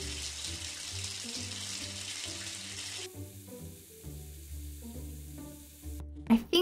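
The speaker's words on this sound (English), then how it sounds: "I'm gonna quickly take a quick shower as well" Shower water running in the Roblox game Bloxburg, a steady hissing spray that shifts in tone partway through and ends with a brief clatter.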